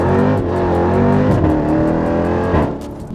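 An orange 900-horsepower Jeep Trackhawk SUV accelerates hard, its engine roaring loud and close with rising harmonic pitch through gear changes, a brief dip at a shift near the end.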